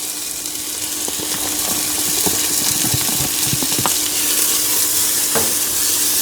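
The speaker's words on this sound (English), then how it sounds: "we're going to saute these for about 5 minutes until they get nice and soft and translucent" Onion, green pepper and de-seeded jalapeno sizzling steadily in a hot pan, a continuous hiss with intermittent scraping clicks from stirring.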